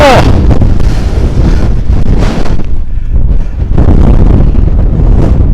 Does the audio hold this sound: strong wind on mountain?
yes